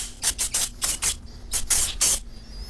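A spray coating goes onto a DIY jon boat bow hatch cover in a series of short, close, hissing bursts, about seven of them in an irregular rhythm.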